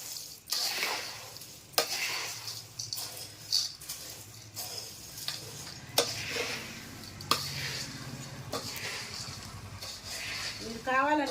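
Khara boondi mixture being stirred together in a bowl, a series of scraping, crunchy stirs with sharp clicks, fairly close and moderately loud, while a person talks over it.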